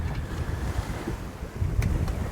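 A sailboat under sail with no engine running cuts through waves along the Norwegian coast, giving steady loud rushing water and surf with wind buffeting the microphone throughout.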